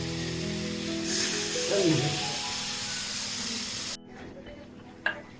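Water poured into a hot frying pan while cooking a Bengali shrimp and cucumber dish sets off a loud burst of sizzling and steam hiss, which cuts off abruptly near the end and is followed by a single clank.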